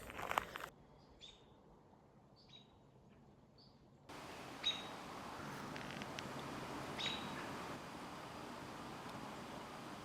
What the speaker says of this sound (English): Sounds like white-throated sparrows chipping.